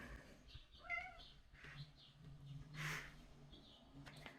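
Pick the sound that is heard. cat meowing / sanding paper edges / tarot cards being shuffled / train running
cat meowing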